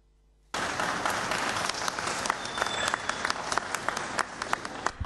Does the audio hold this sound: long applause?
yes